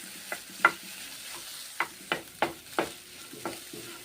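Maggi noodles stirred in a pan with fresh green chillies, giving a run of sharp scraping strokes at an uneven rhythm over a low sizzle. The sound is close, and nobody speaks.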